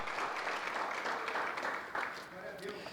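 Congregation applauding in a church service, a dense, steady wash of clapping from many hands that holds for about three seconds, with voices mixed in underneath.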